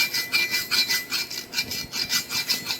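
Edges of a new cast steel farrier's anvil being radiused, a steady run of rhythmic, close, rasping strokes at an even back-and-forth pace with no talk.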